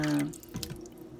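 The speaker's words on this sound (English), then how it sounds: "4 cups of water. I'm going to go ahead and pour it in with all that." Four cups of water poured into a cooking pot for 15 bean soup, a short splashing pour that tapers off within about a second, close and moderately loud with no talk.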